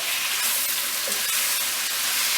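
Chopped tomatoes are dropped into a pan of frying peppers and onions for red beans and rice, and a steady, even sizzle hisses on at moderate loudness with no voices.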